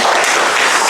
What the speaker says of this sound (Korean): 우리 주무관님한테 박수 부탁드리겠습니다.